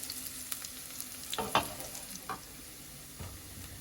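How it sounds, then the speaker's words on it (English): Soft sizzling from chopped garlic frying in a pan, with a few scraping stirs and light clacks of a utensil, close and fairly quiet. "I love the smell of chopped garlic, especially once it's in the frying pan"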